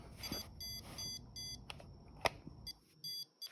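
A handheld stud finder switched on for a test gives a string of short electronic beeps in an uneven rhythm, close by and fairly quiet, with a brief clunk of handling partway through.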